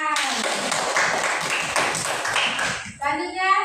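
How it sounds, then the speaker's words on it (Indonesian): A classroom of children claps in a burst of rapid, uneven applause lasting several seconds, then a voice speaks as the clapping fades. "oke, tepuk tangan."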